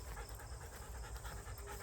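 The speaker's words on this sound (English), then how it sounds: "you probably can hear my dog panting because she seems to be out of steam" A tired dog pants rapidly and continuously, close and fairly loud over a hissy background, with no talking.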